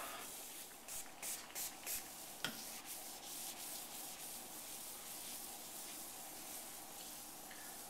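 Quiet rhythmic scraping strokes rasp against a granite countertop, removing sealer residue, a few short pulses followed by a steadier gritty rubbing, with no one talking.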